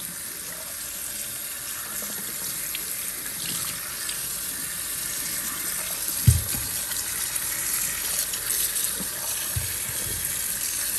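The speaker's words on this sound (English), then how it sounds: "Watch the water below the filter." Tap water runs steadily over a washable air filter, making a continuous hiss and splash for several seconds with a few heavier gushing thumps, close and alone without talk.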